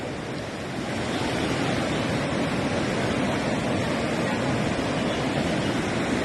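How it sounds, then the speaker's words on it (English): Floodwater flowing over a road near Teesta Bazar, a dense, steady broadband rush that stays loud and unchanging throughout, with no voices. "The water is flowing on the road."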